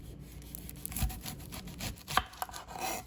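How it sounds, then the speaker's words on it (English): A knife sawing through an onion with the skin left on, trimming off the end before it is cut into rings, giving quiet close rasping strokes and a few soft thuds on the board. "now we're going to go ahead and slice our onion rings"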